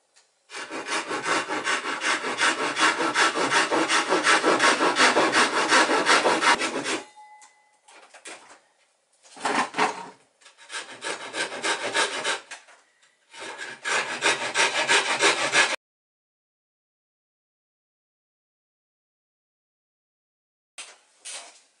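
A Japanese hand saw rasps through wood while shaping a toy boat, heard close: one long, steady run of cutting strokes, then several shorter bursts, followed by near silence.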